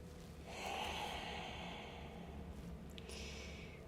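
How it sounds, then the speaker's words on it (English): Slow, heavy yoga breaths drawn and released close to the microphone during stretching, a long airy inhale followed by a breathy exhale, with no talking. "And you hear my breathing. I sound like Darth Vader over here."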